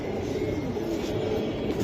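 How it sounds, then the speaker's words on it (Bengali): Platinum hammer pigeon squabs cooing softly in a steady low murmur, close by, with a continuous rumble running underneath and no voices. "এটা প্লাটিনাম হ্যামারের বাচ্চা, প্লাটিনাম হ্যামারের বেবি কবুতর"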